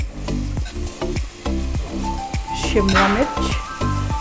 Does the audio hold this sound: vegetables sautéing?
yes